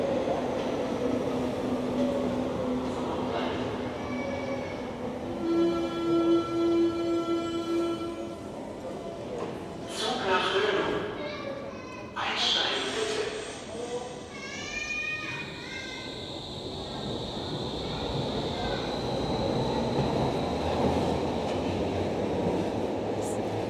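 Berlin metro train at a newly opened underground station, with rumbling wheels, squealing brakes and hissing air heard up close, a steady roar building and fading across the platform amid ambient noise.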